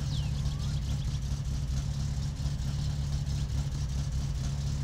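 A car engine idles steadily in My Summer Car during engine tuning, a constant low droning hum held without change from start to finish, close and loud.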